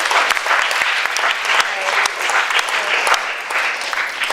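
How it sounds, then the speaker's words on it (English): Continuous clapping fills a school hall after a Shakespeare speaking competition, a crowd applauding steadily with sharp individual claps standing out near and loud. "can we just have a round of applause for everyone?"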